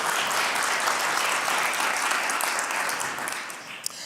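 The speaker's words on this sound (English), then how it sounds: "So let's give ourselves an applause." Sustained applause from an audience at a community summit, dense steady clapping throughout, fading slightly near the end, with no talking over it.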